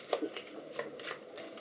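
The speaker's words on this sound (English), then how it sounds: "The hero cards get shuffled" Hero cards for the board game Deus Ex Machina get shuffled by hand, giving a few quick, soft riffling bursts in a quiet room with no voice over them.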